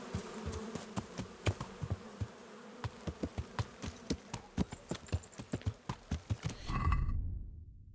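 Horse hooves clip-clop in a steady rhythm for several seconds in the video game Kingdom Come: Deliverance, fairly close and clear, before fading out near the end.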